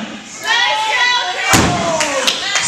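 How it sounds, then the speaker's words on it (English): A wrestler is slammed onto the ring mat in an indie wrestling match: one heavy, close thud lands midway through, amid shouting voices and crowd noise. "Slams him hard."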